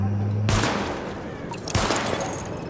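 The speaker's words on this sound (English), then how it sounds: "Open fire at the highlighted targets." Gunfire at highlighted targets in the video game The Division: two sharp bursts of rapid shots, the second following about a second later, loud and close over a low game background hum.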